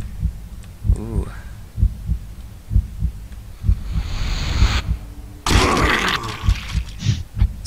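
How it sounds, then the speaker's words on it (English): A steady thumping heartbeat from the video game Blood Omen 2, with regular low pulses running throughout under other game sounds, including a brief louder burst of noise partway through. "I think the heartbeat's meant to represent their heartbeat."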